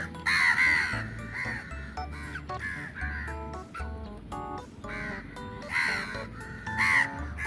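Several crows caw loudly and repeatedly in irregular bursts close by, their harsh calls overlapping with occasional low thuds and background noise.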